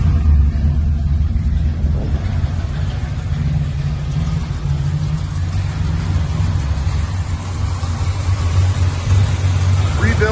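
A 1970 Cadillac Deville with a rebuilt motor idles steadily nearby, a continuous low rumble holding for about ten seconds with no pauses.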